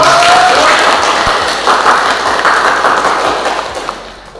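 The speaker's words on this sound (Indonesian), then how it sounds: "Kasih aplaus dong" Audience applause at the close of an Indonesian seminar on leader–secretary relations, a steady broadband wash of clapping that holds for several seconds before fading near the end, with a few isolated thumps.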